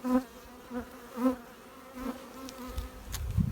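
Honey bees buzzing around hive frames during beekeeping work, a steady moderate drone with a few louder swells as insects pass close, no talk.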